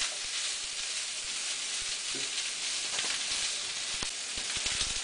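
Smoked sausage sizzles steadily in a pot for hunter's stew, a dense, continuous frying hiss with scattered small pops and crackles, heard alone with no talking.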